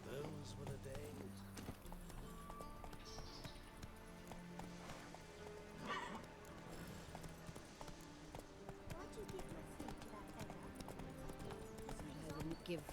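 Roach, a horse in The Witcher 3, gallops with a steady clip-clop of hooves running through the whole stretch, set against game music and ambient sound, with a voice speaking over it.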